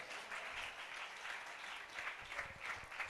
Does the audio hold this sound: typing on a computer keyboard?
no